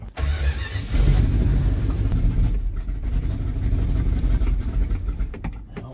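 A 1978 Dodge Adventurer truck engine runs steadily in low range, a loud, close low-pitched rumble that holds at a constant level with little throttle and no talking.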